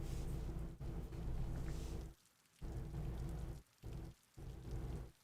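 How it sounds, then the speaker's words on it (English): Steady rain pours in a visual novel scene, a dense, even hiss on hard surfaces that drops out briefly a few times before resuming at full strength. "His mind wandered as he listened to the sound of the raindrops."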